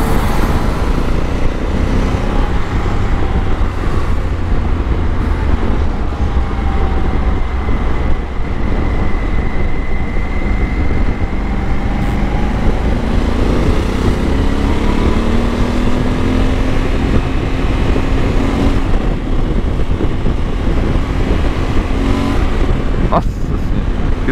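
Honda Africa Twin big-trail motorcycle on the road, a continuous loud engine and wind roar with rising and falling engine tones as it accelerates, steady throughout.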